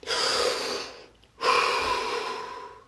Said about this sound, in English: Drop your hands and take a deep breath